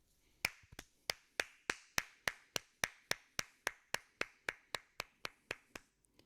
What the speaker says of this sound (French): J'applaudis le phénomène.